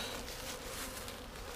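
Honey bees buzz at an overwintered hive, a faint continuous hum with wind-like rustle, steady and close throughout the short stretch.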